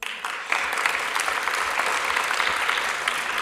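Steady audience applause at the close of a verbal jousting final, a dense wash of many hands clapping from near and far, sustained and even throughout with no break.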